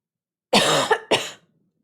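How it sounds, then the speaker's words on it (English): Someone coughs twice, sharp and close, from hot cooked vinegar fumes rising off a kitchen pan, with a short gap between the two bursts. "Hot cooked vinegar makes me cough."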